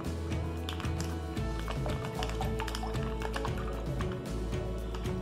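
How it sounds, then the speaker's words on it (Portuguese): Milk pours into a pan on a stove for homemade cream cheese, a continuous close splashing and trickling stream with faint clinks along the way. "Vou adicionar aqui todo o leite."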